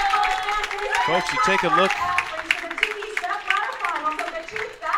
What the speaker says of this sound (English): Please put your hands together for Daria Pyle